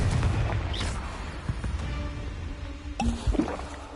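Confringo, a fiery explosive spell cast in the video game Hogwarts Legacy, bursts with a sharp crack and rumbling boom, followed by further impacts and debris-like clatter.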